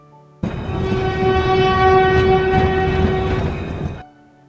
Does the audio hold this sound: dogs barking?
no